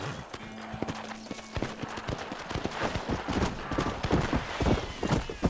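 Rapid hoofbeats of a horse galloping in the Red Dead Redemption video game, a quick steady clip-clop that builds in density, heard alone without talk.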